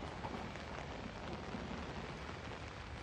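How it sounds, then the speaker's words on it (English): Rain falls in the Outlast video game, a soft, steady hiss of drops at low level with no breaks and no voices. "It's raining."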